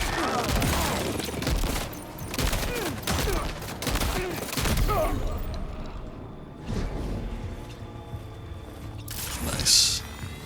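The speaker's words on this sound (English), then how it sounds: "Bust out my shotgun." Shotgun blasts and other gunfire in the video game Death Stranding 2: On the Beach, several loud shots in the first half, then quieter mechanical clicks and a sharp sound near the end, with a voice talking over parts of it.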